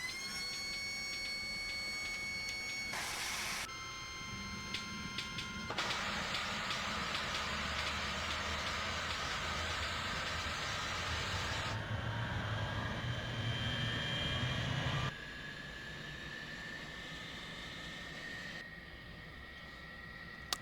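A Hawker Hunter jet engine spools up in the Prepar3D flight simulator, with rising turbine whines and a broad roar that steps up in stages, then a sustained steady hum toward idle.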